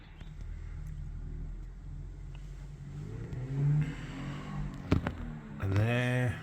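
Small Fiat convertible pulling away very slowly, its low engine rumble and hum steady and fading slightly with distance, with brief knocks and a rising drone near the end.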